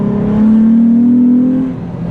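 Nissan 350Z V6 engine revving up briefly, a loud close rising drone that holds steady for about a second before easing off, with no talking.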